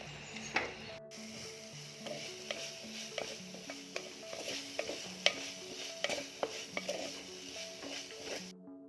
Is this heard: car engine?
no